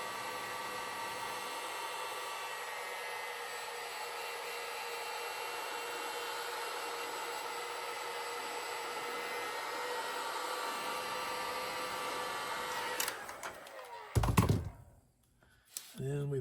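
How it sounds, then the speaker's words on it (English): A heat gun shrinks tubing with a steady, close blowing whoosh of hot air that holds for most of the time, then cuts off, followed by a few handling thumps. "take your heat gun and you're going to shrink it down onto it"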